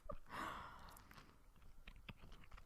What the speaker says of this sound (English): My jaw hurts from chewing this gum